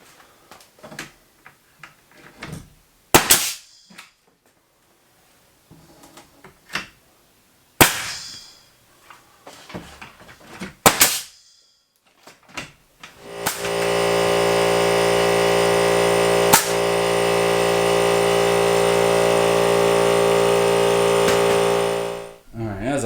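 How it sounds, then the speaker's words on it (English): A nailer toe-nails wooden wall studs into blocks, firing a few sharp, loud bangs spaced seconds apart amid softer handling knocks. A long, steady mechanical hum follows. "I will toe nail my stud in at the bottom and top here, nail back into these blocks from the other stud there"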